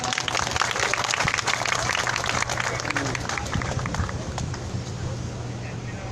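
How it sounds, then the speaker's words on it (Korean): Applause from a crowd at an outdoor rally, the Wednesday demonstration for resolving the Japanese military sexual slavery issue: dense, steady clapping that fills the clip and slowly thins toward the end, with some background voices mixed in. "큰 박수 부탁드립니다."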